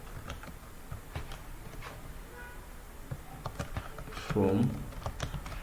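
Computer keyboard being typed on while writing code, scattered light clicks and taps at an irregular pace, close but soft, with a person speaking briefly over it.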